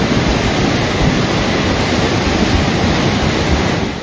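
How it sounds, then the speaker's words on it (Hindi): Loud, dense roar of a swollen mountain stream in flood during the monsoon between Kullu and Kasol, a constant close rushing wash with no pauses. "पानी का शोर सुनिए, जो हर बीतते सेकंड के साथ अपनी रफ्तार को बढ़ा रहा था"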